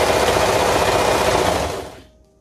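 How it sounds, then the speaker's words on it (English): A serger stitches fabric for a toddler maxi dress, a steady, fast, loud mechanical whir running close by for about two seconds before slowing and stopping. "It's just a lot quicker to do it on a serger."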